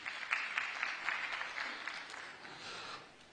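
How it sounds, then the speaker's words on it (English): Audience applause at a community development initiative inauguration in Katsina, a steady mid-level wash of many hands clapping that runs the full length and tapers slightly near the end, with no talk over it. "I suggest we give him a resounding round of applause"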